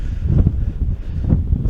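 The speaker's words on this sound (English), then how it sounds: "Only problem is it's really windy here" Strong wind on Middle Fell in the Lake District buffets the microphone in low, rumbling gusts that swell and fade throughout, close and loud.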